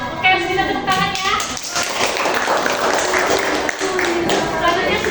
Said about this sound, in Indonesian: Oke, bisa tepuk tangan ya.